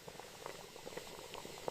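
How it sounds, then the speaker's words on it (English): Water boiling in an iron pot over a campfire inside a hollow-tree shelter, with wild pine needles being added, gives a faint, steady bubbling patter with small pops throughout. "As the water boils, I add some wild pine needles for a warm, vitamin-rich, natural forest tea."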